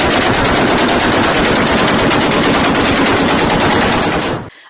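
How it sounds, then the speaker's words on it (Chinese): Sustained automatic gunfire from a clash on the Pakistan-Afghanistan border, a dense, loud, unbroken rattle of rapid shots lasting several seconds before cutting off abruptly. "巴边境线上这炮声就跟过年放的二踢脚似的，一串一串的"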